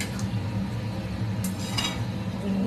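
A spoon stirs hilsa fish and papaya in a cooking pot, soft clinks and scrapes of metal against the pot repeating over a low simmering hiss, close and fairly quiet.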